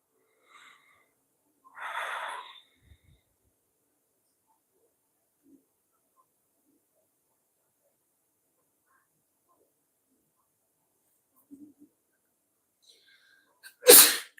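Two sneezes from a person indoors: a sharp, fairly loud one early on, then long near-silence before a second, louder and more explosive sneeze at the very end.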